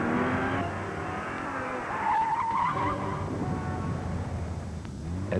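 A car's tires squeal and skid during a Continental Tires torture test, one sharp wavering squeal rising over the steady roar of the engine and tires.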